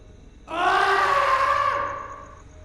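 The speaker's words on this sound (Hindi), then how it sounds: "वहां से कभी कभी चीखें आती थी" A long, harmonic scream of anguish rises sharply and holds for about two seconds before fading into a wail, a lone loud cry used as a horror-story effect, with no talk.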